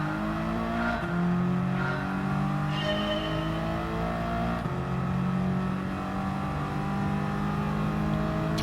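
A turbocharged 2018 Subaru BRZ in a racing video game, its engine holding a steady loud drone with tones that climb and fall as it revs through the gears, and a brief shift break partway through.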